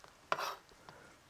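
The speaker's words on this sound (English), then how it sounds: "we're cutting it the small pieces" A single sharp knife stroke through vegetables on a cutting board for Persian street food, one crisp close chop followed by faint softer taps.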